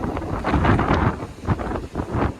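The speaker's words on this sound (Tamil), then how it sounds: "இப்போ வர காற்று வேற இங்கே அதிகமாக இருக்கிறதுனால" Strong seaside gusts at Kanyakumari buffet the microphone in loud, rumbling bursts, with a rushing, uneven roar of wind outdoors.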